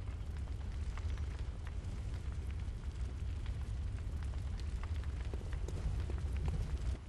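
Fire roars in a Bloodborne game scene, a dense continuous rumble with crackling bursts and pops, loud and steady throughout with no talk.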